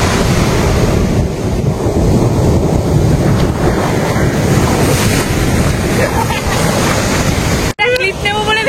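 Sea waves roll in at high tide on Puri beach in India. Continuous loud surf is mixed with wind buffeting the microphone, with a brief dropout near the end and people talking nearby.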